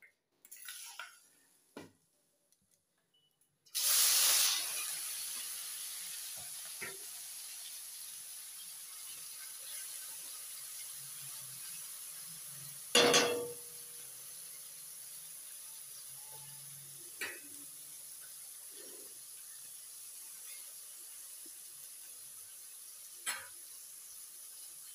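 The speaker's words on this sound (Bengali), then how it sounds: "কড়াইয়ে তেল দিয়ে ধোঁয়া উঠছে। তো আস্তে আস্তে চিংড়ি মাছগুলো দিয়ে দেব।" Prawns drop into smoking-hot oil in a wok, setting off a sudden loud sizzle that settles into a steady hiss, with occasional clinks and scrapes of a utensil against the pan.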